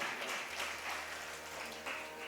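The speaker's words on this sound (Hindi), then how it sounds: "और अब एक बार ताली उनके लिए बजा दीजिए" Faint applause from an audience at a Bhagavat Katha religious discourse, a soft wash of clapping that continues for a couple of seconds at low level, distant and diffuse.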